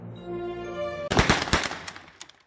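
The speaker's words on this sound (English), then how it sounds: "I heard gunshots in the studio." A sudden burst of several sharp gunshots in quick succession in a studio follows a sustained tone, then the cracks fade with a short echoing tail.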